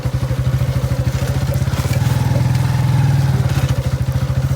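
A motorcycle bumping along a rough, wet off-road track gives a close, loud, pulsing engine chug with rhythmic thumps and clatter from the bumps, rising slightly in the middle.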